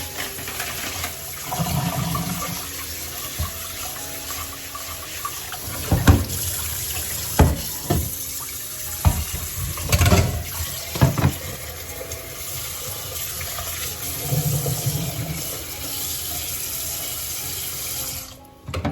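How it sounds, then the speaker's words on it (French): Cold tap water runs steadily over freshly boiled eggs in a colander, a continuous splashing rush broken by several louder clattering bursts midway, with no talk. "je les mets dans une passoire et je les recouvre aussitôt d'eau froide"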